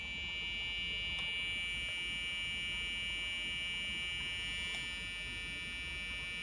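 A steady electronic buzzer tone, driven by a CD1458 pulse generator circuit on 3.7 volts, drones on continuously, a high sustained whine with a low electrical hum beneath it and no pauses.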